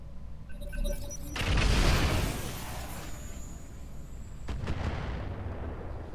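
Pepperbox rifle firing in the Roguetech mech game: a loud booming discharge with a rumbling tail, followed a few seconds later by a sharper second report and lingering low rumble.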